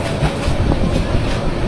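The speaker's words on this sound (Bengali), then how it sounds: "চৌমোহনী থেকে আমাদের ট্রেন ছেড়ে দিল।" Upokul Express passenger train rolling on rails between Chowmohani and Maijdee Court, Noakhali, heard from inside as a steady, loud rumble with a rhythmic clickety-clack of wheels over rail joints.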